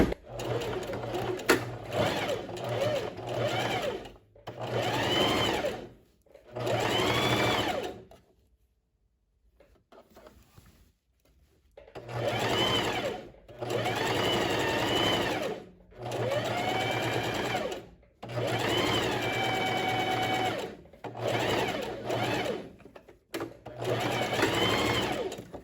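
A sewing machine stitches the front seam of a lined tailored vest in a series of steady runs, stopping briefly between them and pausing longer near the middle, close and clear with no talk.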